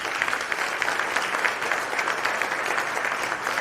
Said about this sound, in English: So give yourselves a round of applause if you would.